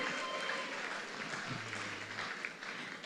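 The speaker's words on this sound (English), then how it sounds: "We can make the applause louder." Steady crowd applause at the Miss World Nigeria 2026 pageant fills the whole stretch, dense and continuous, with a faint tonal hum underneath partway through.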